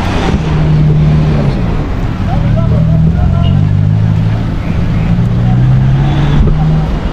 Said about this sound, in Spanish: Hay mucho, mucho tráfico.